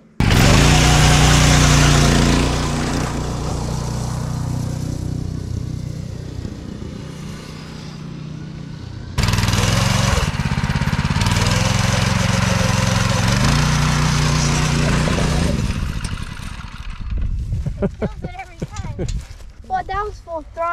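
Classic go kart with a 6.5HP engine at full throttle, a loud close buzzing roar that drops, surges again, then sputters and dies with someone talking.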